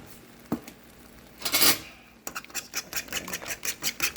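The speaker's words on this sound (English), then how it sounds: "Mix it all together" Seasoned scrambled egg with salt and black pepper is stirred in a bowl, beginning with a clink and a brief scraping swirl, then turning to a quick, rhythmic run of utensil taps and scrapes against the bowl.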